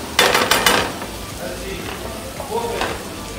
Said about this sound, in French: le persil haché. Je remue le tout